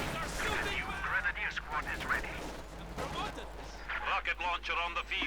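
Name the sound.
Katyusha rocket artillery fire in video game Company of Heroes 2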